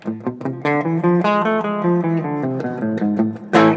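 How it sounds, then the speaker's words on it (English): A run of distinct pitched notes played one after another in an ascending A harmonic minor scale, clear and close, ending with a brighter struck sound. "That's the A harmonic minor scale."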